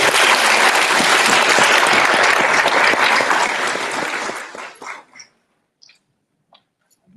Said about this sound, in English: offer another round of applause.